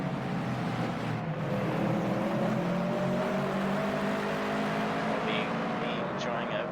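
Several Toyota 86 race cars drive together during qualifying at Snetterton in a racing sim, engines droning steadily and overlapping at close range, with a constant hum of tyre and wind noise throughout.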